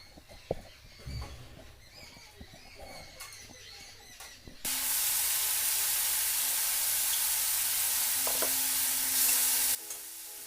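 Vegetables including potato, eggplant, pumpkin, beans and peas go into hot oil after a chili tempering and onion. A few clinks and stirring knocks lead to a sudden loud, hissing sizzle that holds steady for about five seconds and then cuts off.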